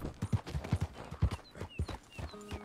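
Steady clip-clop of horse hooves on a hard surface in Red Dead Redemption 2, rhythmic and fairly close, with a faint whinny and some game-like tones near the end.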